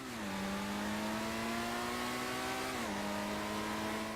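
Turbocharged car in GTA V accelerating hard, a loud steady engine drone climbing in pitch, dipping briefly at a gear change near the end before rising again, with no talk over it.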